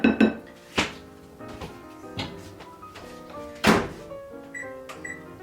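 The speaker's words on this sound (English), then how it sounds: "Given how powerful this microwave is," A powerful kitchen microwave heats coconut oil for no-bake peanut butter oat cups, its steady hum broken by loud clunks and clatter of dishes, with a couple of short high beeps near the end.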